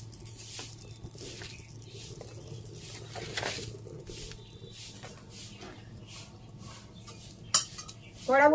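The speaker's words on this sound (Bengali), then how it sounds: "কড়া বসিয়ে দিলাম" An iron wok is set on a freshly lit stove with a series of light metallic clinks and scrapes, close by, ending in a sharper clank.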